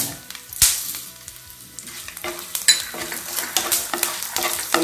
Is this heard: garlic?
yes